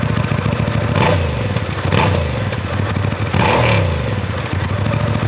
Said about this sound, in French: Je vous mets juste un petit peu le son de l'échappement d'origine, après 4500 km,